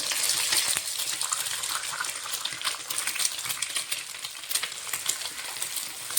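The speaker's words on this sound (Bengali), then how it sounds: "দুটো ডিমই একসঙ্গে ভেজে নেব।" Two eggs fry together in white oil in a pan, giving a steady, close hiss of sizzling with small crackles and pops throughout.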